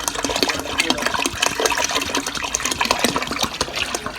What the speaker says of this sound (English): So now I'm gonna add some whole milk.